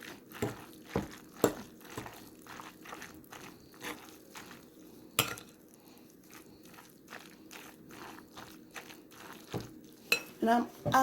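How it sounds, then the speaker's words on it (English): A spoon stirs cold spaghetti chicken salad in a bowl, giving close, irregular clinks and scrapes against the dish with soft wet mixing sounds between them, fairly quiet. "Make sure you stir it in real good."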